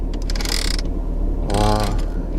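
The large rotary temperature control dial in a Chevrolet Camaro SS being turned, making two short bursts of close, crisp clicking detents with a brief pause between them.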